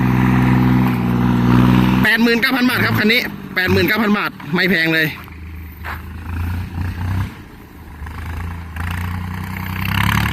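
A diesel tractor engine idles steadily in the background, loudest at first, while someone speaks over it for most of the clip.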